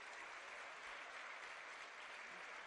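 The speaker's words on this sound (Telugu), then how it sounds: "వీళ్ళందరూ కూడా గట్టిగా చప్పట్లు కొట్టాలి" Audience clapping steadily and loudly throughout at a government job-appointment event in Telangana, a dense wash of many hands with no talk over it.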